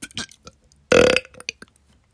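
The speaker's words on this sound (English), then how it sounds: "burp" A single loud, close burp sound effect, about a third of a second long, stands out among short scattered vocal fragments in an audiobook reading.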